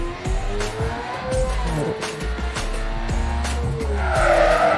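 In a driving video game, a car engine roars and its pitch keeps shifting while the tires squeal in repeated bursts, ending in a long, loud skid.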